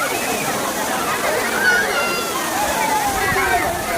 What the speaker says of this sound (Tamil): அதாவது இந்த அருவியில் ஏகப்பட்ட தண்ணி வரும்போது இங்கே யாருமே நிற்க முடியாது.